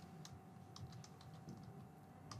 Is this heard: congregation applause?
no